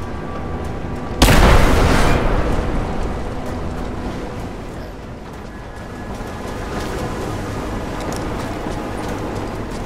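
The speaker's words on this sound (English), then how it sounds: "Let's make a bigger explosion." Explosion in the video game Rise of the Tomb Raider, a single loud boom that bursts out early and fades into a long rumbling tail with no talk.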